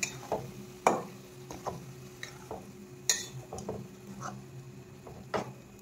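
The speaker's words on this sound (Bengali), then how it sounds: "এবার নাড়তে হবে।" Grated coconut fishing bait stirred in a pan, with soft scattered scrapes, taps and light clinks at an uneven pace, close and fairly quiet with no talking.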